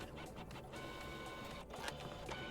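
A printer runs in the video game Deceive Inc, a continuous mechanical whirring with rhythmic clicks and brief bursts, fairly quiet and steady under a low game background.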